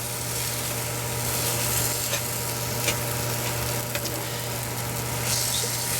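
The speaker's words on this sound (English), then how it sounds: "Let this fry a little bit more." Food sizzles steadily in a hot pan after sugar has been added, a dense, even crackle with occasional sharper pops and stirring scrapes, close up and uninterrupted by speech.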